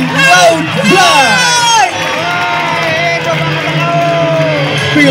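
A large crowd at an aerobatic display marking the opening of the Liga Santri Piala KASAD 2022 cheers and whoops loudly and continuously, many children's high shouts close by, with an announcer's voice talking over the din.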